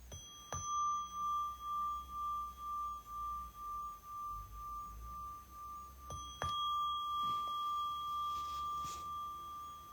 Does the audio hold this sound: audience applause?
no